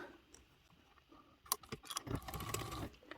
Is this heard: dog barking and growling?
no